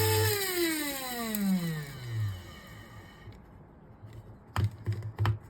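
A small, powerful mini grinder switches on and runs, its motor whine sweeping downward as it winds through speed changes, followed by a few sharp clattering bursts near the end.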